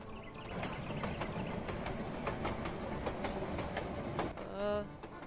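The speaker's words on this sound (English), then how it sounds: "Yeah, the train doesn't wake him up." A train passes in The Night of the Rabbit video game, a faint, steady rhythmic clickety-clack of wheels on rails with a brief tonal squeal near the end.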